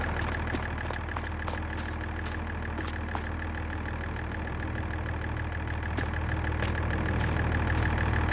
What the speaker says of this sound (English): So I have these other tractors.